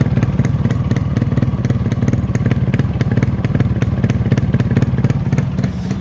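A Yamaha RX-100 motorcycle runs close by after restoration, its two-stroke engine idling in a fast, steady, even putter with a rattly clatter, loud and alone with no talk.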